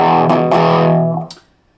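An electric guitar plays through a Boss DS-2 Turbo Distortion pedal, a short loud distorted chord ringing for about a second before fading, with a brief string scrape at the end.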